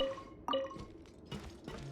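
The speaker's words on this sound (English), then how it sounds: "I hear water." Dripping water in Genshin Impact, a few soft, separate drips and splashes at close range, quiet and with no talking over them.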